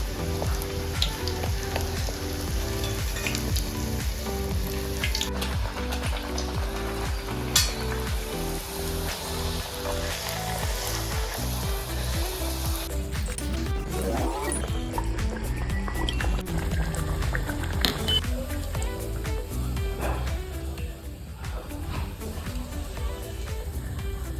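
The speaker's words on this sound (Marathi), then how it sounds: "अशाच प्रकारे आपण सर्व पुऱ्या तळून घेऊ" Pumpkin puris deep-fry in hot oil, with a steady, dense sizzle and bubbling that runs throughout, plus a few stirring and splashing sounds from the pan.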